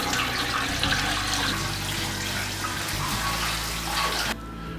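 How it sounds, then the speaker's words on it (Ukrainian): Water pours steadily into an autoclave over stacked jars of home-canned mackerel and saury, a loud continuous gushing splash that cuts off abruptly near the end. "а також залимаємо воду"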